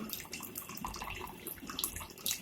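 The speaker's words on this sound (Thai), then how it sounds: "เติมน้ำลงไปด้วย จะได้มีน้ำหลงเหลว" Water pours and splashes into a pan of chicken spaghetti sauce, a continuous close bubbling, trickling sound with small splashes.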